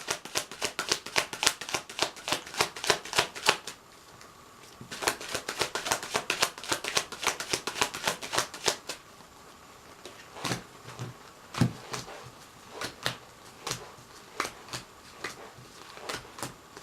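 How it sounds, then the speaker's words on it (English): An Aquarian Tarot deck is shuffled by hand in quick bursts of crisp, riffling card flutters, pausing briefly around the middle before sparser snaps and taps resume, close and clear with no talking. "So I'm just going to shuffle the cards now"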